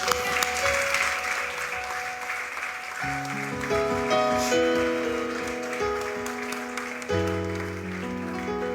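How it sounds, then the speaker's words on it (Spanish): Church congregation applauding during a sermon, sustained clapping continuing under held sustained musical tones throughout. "Dele un aplauso a Jesucristo"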